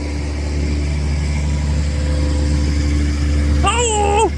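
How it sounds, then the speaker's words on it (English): A 300-horsepower tractor pulling a big load during first-cut silage runs with a steady, droning engine hum throughout, joined near the end by a brief rising whine. "300 horsepower tractor on the big yoke"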